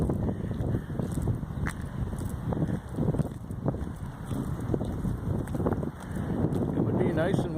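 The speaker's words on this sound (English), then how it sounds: "Oh, it's windy." Chilly wind blowing outdoors at night and buffeting the microphone in a steady low rumble with gusts, while someone talks over it.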